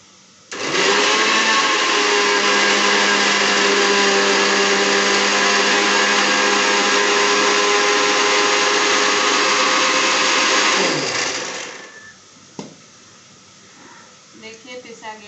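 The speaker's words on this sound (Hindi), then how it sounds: "भाजा के लिए मसाला पीस रही हूँ दोस्तों," An electric blender grinds cumin and garlic into a spice paste in a home kitchen, a loud, steady whirring roar lasting about ten seconds before spinning down, followed by faint clattering.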